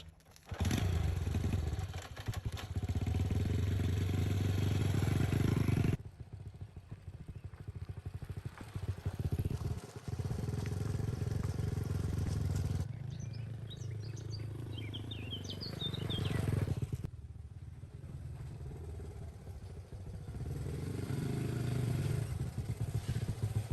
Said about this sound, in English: The two of them got on the motorbike and rode back home together.